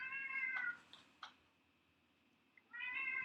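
A real house cat meows twice, close and clear, with a couple of soft taps in the quiet gap between the two drawn-out cries.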